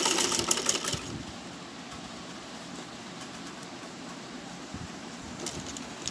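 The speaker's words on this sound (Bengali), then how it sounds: "তো ফিতাটা এভাবে সেলাই করে নিতে হবে। এই পর্যন্ত আসবে, তারপরে ডবল করে সেলাই নিতে হবে।" A sewing machine stitches ribbon onto a girls' top with a steady, close mechanical whir and rattle, a little busier at the start and end, with no talking.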